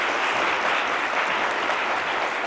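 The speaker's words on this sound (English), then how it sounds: "please give them a round of applause" Audience applause for two debaters at the close of a debate on free speech and intellectual diversity at Harvard: dense, steady clapping from a large crowd, close and even throughout.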